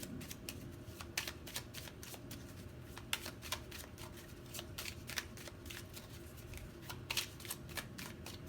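Tarot cards are handled and drawn from a deck for a pick-a-card love reading, making soft papery flicks and slides that repeat in a steady close rhythm over faint room hiss.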